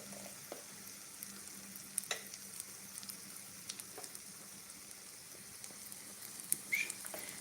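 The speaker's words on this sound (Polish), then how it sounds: "Tutaj już nam się ładnie smażą nasze placuszki" Soft, steady sizzling of pumpkin pancake batter frying in a pan, with faint crackles and occasional light pops, no voices.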